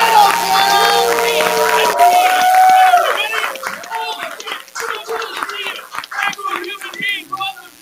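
Audience at the 622nd Monday Night Comedy Show clapping and cheering to welcome host Andrew Danger, a dense burst of claps rising under an excited voice, then scattered clapping and whoops as the room settles.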